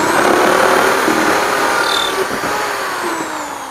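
A power drill whirs steadily at close range drilling a hole in a gutter grow bed, its motor pitch shifting slightly as it bites into material.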